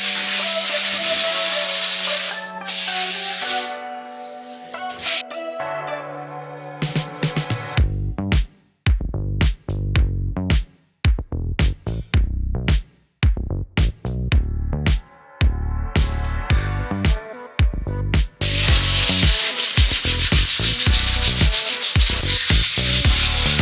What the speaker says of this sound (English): I've got to sand the room first because there's filler on it.